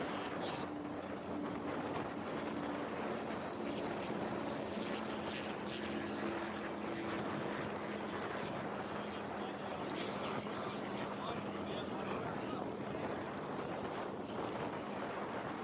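A steady, droning racing power boat engine runs loud and constant throughout, with wind buffeting the microphone and a faint voice underneath, during a power boat race on the St. Clair River.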